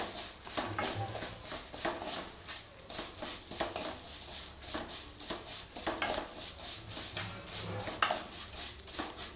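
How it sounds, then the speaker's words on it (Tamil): Sago and vermicelli roast in a pan while a spoon scrapes and stirs them continuously, making a busy run of close, dry rattles and metallic scrapes. "இது ஜவ்வரிசி சேமியா போடுறப்போ இதை கொஞ்சம் நம்ம நல்லா வறுத்து எடுத்துக்கலாம்."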